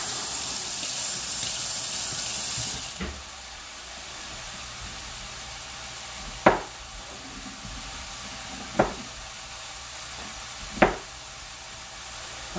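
A kitchen tap gushes loudly for about three seconds while food is rinsed, then shuts off, leaving a quiet room broken by a few sharp knocks.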